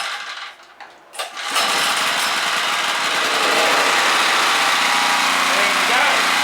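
After a few quiet handling sounds, a Ryobi generator engine fires up suddenly and settles into a loud, steady, buzzing run that stays close for the rest of the clip.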